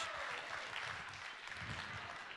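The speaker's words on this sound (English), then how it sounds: "Let's give big Mr. Matchy Match a round of applause." Audience applause for Mr. Matchy Match at a 1 Million Cups gathering in North Dakota: a steady, dense wash of clapping that holds evenly from start to finish, fairly soft and distant.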